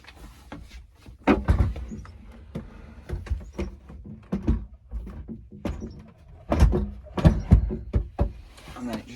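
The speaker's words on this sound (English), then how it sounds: "Just open the door." Cupboard door in a self-built Mercedes Sprinter camper van opened to stow the table, with several close knocks, clicks and thuds of wood and latches in a busy, uneven sequence.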